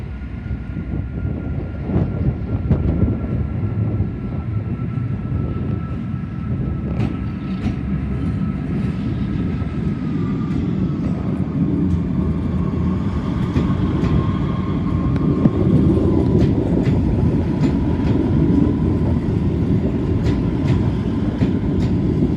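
A train rumbling past close by at Portsmouth and Southsea station on cautionary signals, loud and steady with low mechanical roar and faint rhythmic clatter throughout.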